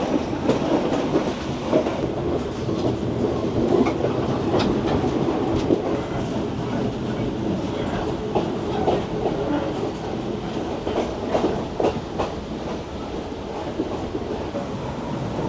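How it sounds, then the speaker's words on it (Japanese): A heavy passenger carriage clatters steadily along steel rails on a railway journey in Sri Lanka, a continuous loud rumble with rhythmic clickety-clack from close by, no voices. "この重い客車が鉄線路の上ガタガタ言ってるのが最高です。"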